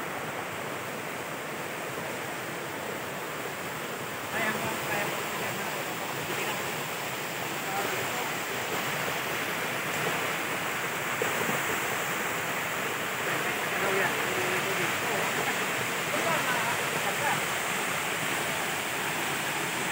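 Bigbig Falls, a waterfall, gives off a constant broadband rush of water, steady and fairly loud, filling the whole stretch without pause.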